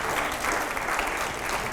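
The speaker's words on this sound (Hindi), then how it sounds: "जरा जोरदार तालियां हो एक बार।" An audience at a televised political interview event applauds loudly and continuously, a dense clapping crowd heard throughout.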